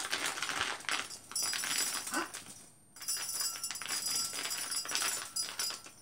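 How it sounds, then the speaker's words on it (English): Glass tapped repeatedly with a utensil during a children's attention activity, giving bright ringing clinks in quick succession with a short pause midway, fairly loud and close, with no talking. "That was the glass."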